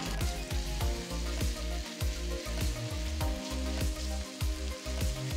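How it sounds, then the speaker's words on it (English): Onions and ginger garlic paste sizzle steadily in a pan for a dhaba-style kadai chicken, with a loud continuous frying hiss and a rhythmic series of stirring scrapes throughout, no voices. "Saute the onions till they're a nice golden brown color."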